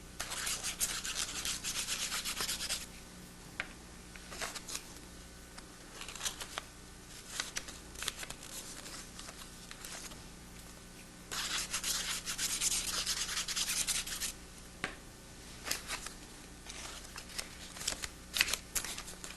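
Squares of thin teabag paper being folded and fitted against a center fold, close papery rubbing and crinkling in long sustained stretches broken by brief quieter pauses, no speech.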